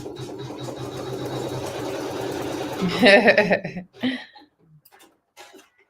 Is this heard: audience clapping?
no